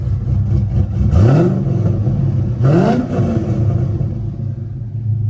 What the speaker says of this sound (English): Can't get tired of a cammed Corvette.